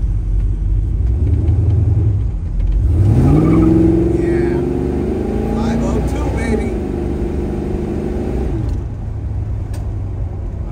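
A 1972 Chevrolet Chevelle accelerates through a U-turn, its deep engine rumble rising into a loud revving climb that then settles back to a steady drone, with a voice talking over it.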